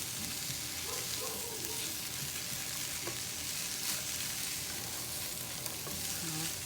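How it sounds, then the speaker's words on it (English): Carrots sizzle steadily in a hot pan, a constant close crackle with occasional light stirring scrapes. "You can hear it sizzling."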